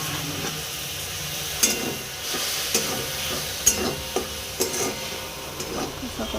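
Turmeric, ground cumin, ground coriander and other spices frying in a pan under a steady close sizzle and hiss, with irregular scraping stirs knocking against the pan every second or so, and no speech.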